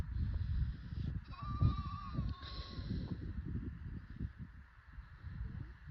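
Valais Blacknose sheep and lambs bleat outdoors, a couple of faint distant calls rising over a quiet background of rustling and low handling noise.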